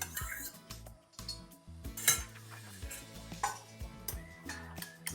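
Utensils clinking and scraping against a bowl in quick, uneven strokes as yogurt is whisked, close by, with background music playing throughout.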